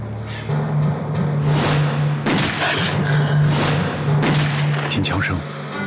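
Gunfire in a wartime drama, a continuous low rumble with repeated sharp shot transients and booms, heard loud alongside a steady hum, with no speech over it.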